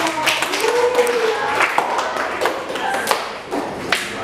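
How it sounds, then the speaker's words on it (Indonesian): A classroom group claps steadily for a presenting student group, a dense patter of hands with a few sharper claps and some voices mixed in. "kita kasih aplaus untuk kelompok 3"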